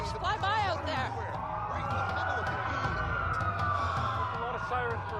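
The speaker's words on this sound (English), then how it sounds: "lot of sirens for a blockhouse" Police sirens wail in the Watch Dogs video game, a rising and falling tone held steadily through the clip, with game voices talking over it.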